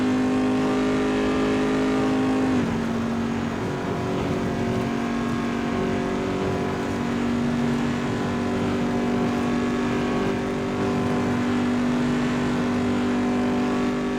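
A race car engine in a racing video game holds a steady, loud drone for the whole stretch, with a brief dip in revs early on before it settles back to a sustained high note, as if the throttle is eased slightly.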